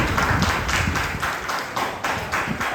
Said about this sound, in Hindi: एक बार जोरदार तालियां रघुवीर सिंह